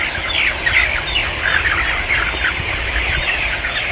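Chickens in a pen fenced with net mesh cluck and squawk continuously, a busy close flock with overlapping calls and no pauses.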